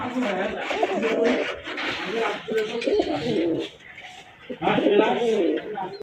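A pair of homer pigeons coo in low, rolling bursts close by, while someone talks over them.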